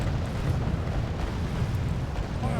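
A dense, continuous roaring rumble of missile launch and explosions in Wargame Red Dragon, loud and sustained throughout with no distinct individual blasts.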